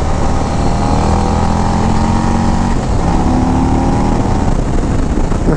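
Harley-Davidson Road Glide CVO motorcycle engine running loud and steady, a deep continuous rumble with a slight shift in pitch midway, no speech.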